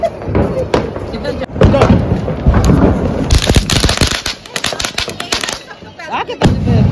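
Diwali firework rockets launch and burst in a run of loud, sharp cracks and booms, some clustered in rapid crackling volleys, with people talking throughout.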